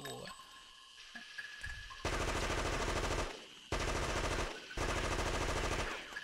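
Rapid bursts of automatic gunfire fill a boss fight in the PS1 game Fear Effect, three long loud volleys separated by short pauses, with fainter game sounds in the quiet opening.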